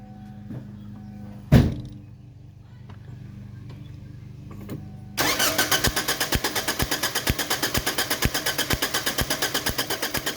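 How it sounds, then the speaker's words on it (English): After a single thud, a car's starter cranks the engine over during a spark test on the number 1 and 4 coils, making a loud, fast, even chugging rhythm that continues steadily to the end. "And Henry, you can turn the car over."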